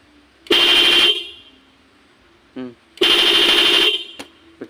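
Car horn on a vehicle called the blue one, modified to sound intermittently, gives two long loud pulsing blasts about a second apart, with short chirps between them. A voice briefly speaks around the honks.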